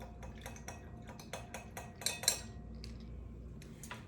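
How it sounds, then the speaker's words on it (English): A teaspoon stirs a small amount into juice for a Gold Fashioned spritz, making a quiet series of light metallic clinks and taps against the glass, irregular and close, with a few brighter chimes midway. "I'm gonna mix that in with my juice so that they're fully mixed up"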